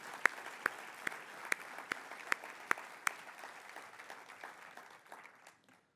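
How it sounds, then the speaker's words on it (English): Audience applause at a corporate leadership summit, steady clapping throughout with a few sharper louder claps standing out early, tapering off and fading toward the end. "I think we can give them another round of applause for this."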